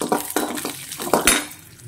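Cabbage is lightly fried in a pan, with a soft sizzle under several sharp scrapes and knocks of a utensil against the pan, spaced irregularly and close, with no talking.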